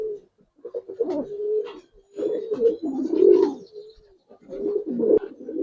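Silver Giribaz and coloured pigeons cooing close by in a series of low, throaty bursts with short pauses between them, with no voices over them.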